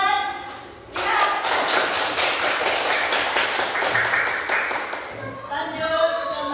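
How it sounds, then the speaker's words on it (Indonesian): A group in a training class claps for a participant, a burst of dense applause from several people lasting about four seconds before fading into quieter room sound. "Tepuk tangan buat Jihad"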